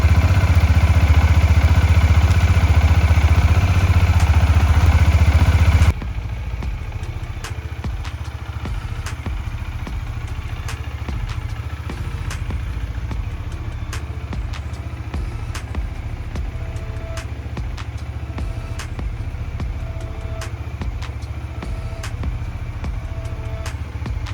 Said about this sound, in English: We were able to successfully start the bike.